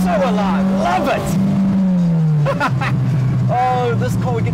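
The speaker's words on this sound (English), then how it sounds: "Quite a powerful motor, this, as much as it's just a small little 2-litre motor" A RAPiD RS13 drift car with a small 2-litre engine and 5-speed Nissan gearbox revs up close and loud, its engine note sweeping up and down in sharp bursts, with a voice talking briefly over it.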